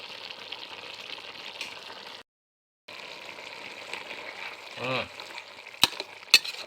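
Wild boar stir-fried in a wok with holy basil leaves sizzles busily and close, with stirring scrapes, a brief silent gap, then a few sharp utensil clacks against the pan near the end.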